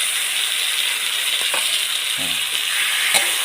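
Canned fish and egg stir-frying in a hot pan, a steady loud sizzle with a few scraping, clinking stirs of the utensil against the pan.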